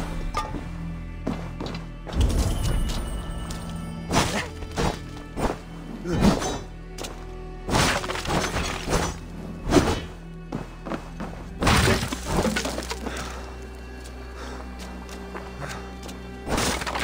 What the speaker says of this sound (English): destroy my crates and take my...